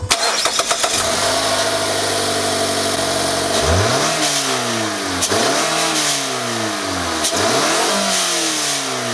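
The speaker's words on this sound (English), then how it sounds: "And now we'll have a listen to a cold start." A Mazda 3 engine cold start: it cranks briefly and catches, then revs up sharply several times before settling into a loud, steady idle with a ticking mechanical clatter.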